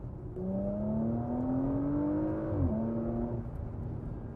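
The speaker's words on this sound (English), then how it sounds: "Engine maybe sounds a bit less dramatic than the Alphas." A Porsche Macan GTS engine runs with its sports exhaust switched on, a smooth, moderately loud drone whose pitch climbs steadily under acceleration. It then dips and settles, heard alone without voices.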